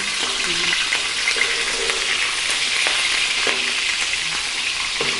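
Ingredients for a Thai jap chai vegetable stew fry in hot oil in a cooking pot, producing a loud, continuous, dense sizzle with crackling spatters, heard up close with no talking.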